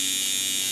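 A tattoo machine runs with a steady, close electric buzz, high-pitched and even throughout the short stretch.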